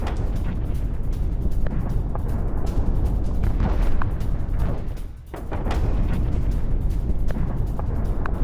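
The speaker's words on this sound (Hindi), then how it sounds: "ओडेसा पर क्रूज मिसाइलों से हमला किया गया है" Cruise missile strike on a civilian area of Odesa, Ukraine: a loud, continuous low roar and rumble with scattered sharp crackles and thuds, dipping briefly in the middle before resuming, with no talking.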